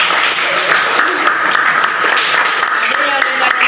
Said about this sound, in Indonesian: Tepuk tangan juga untuk Rahma